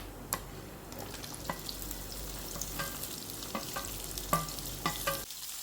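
Nuts and onion frying in a pan for a moong sprout pulao, a steady close sizzle broken by sharp spoon scrapes and clinks roughly every second, stopping abruptly near the end.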